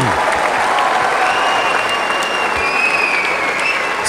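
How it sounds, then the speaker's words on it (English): A tennis crowd at the Chennai ATP singles final applauds and cheers the two players, a dense, steady roar of clapping with whistles rising above it. "Let's give a warm Chennai cheer to these two great players"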